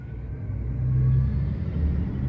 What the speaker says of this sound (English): There goes your truck.